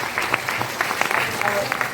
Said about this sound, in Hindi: पर ताली तो जोरदार आवाज दरकार